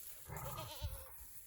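A male goat gives one drawn-out, wavering bleat lasting about a second, close and fairly loud against a quiet farm background.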